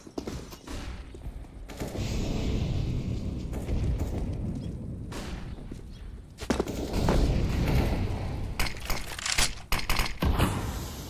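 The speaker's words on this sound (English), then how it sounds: "Flashbang out." A flashbang grenade goes off in a video game firefight, mixed with repeated loud bursts of gunfire and sharp blasts that come in dense clusters with brief lulls between them.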